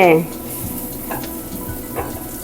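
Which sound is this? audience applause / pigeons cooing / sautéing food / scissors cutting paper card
sautéing food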